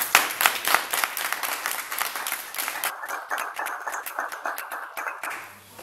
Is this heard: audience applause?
yes